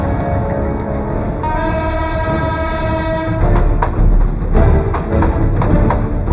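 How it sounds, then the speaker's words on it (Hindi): A Mumbai local train passes close by, sounding a loud sustained horn blast and then a rumbling rush with rhythmic clattering wheels that swells as it goes by, with no voices. "यह है मुंबई लोकल, विश्व की सबसे जानलेवा रेल।"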